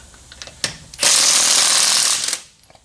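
A power tool, likely an impact wrench, zips off lug nuts while pulling the wheels on a Pontiac Vibe GT: one loud, steady burst of about a second and a half, preceded by a few faint knocks and trailing off into quiet clatter.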